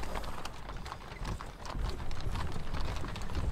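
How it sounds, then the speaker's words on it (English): Cavalry hooves in the Napoleonic Battles Leipzig wargame clip-clop in a dense, continuous patter, a massed formation advancing at a moderate, even level with no voices. "He's still moving his horses forward there."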